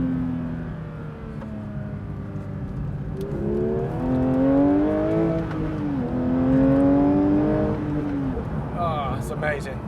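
A Porsche 992 GT3 Touring with manual gearbox revs up through the gears while driving, its engine note rising and falling in clear harmonic sweeps, loud and close under occasional talk.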